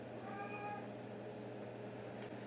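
A house cat meows once in a short, fairly close call over a steady low indoor hum, with no talking.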